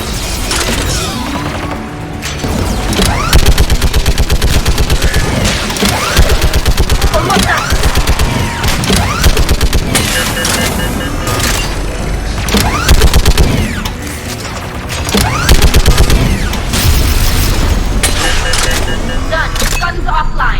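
Dense weapon fire rattles on steadily in a Mass Effect 3 battle, loud and layered with other combat noise, while voices speak over it.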